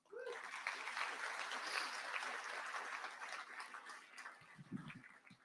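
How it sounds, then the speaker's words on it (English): Audience applause at a tribal and U.S. EPA regional conference awards presentation, a steady crowd clapping that holds for several seconds before tapering off, with a few louder claps near the end. "That's another round of applause."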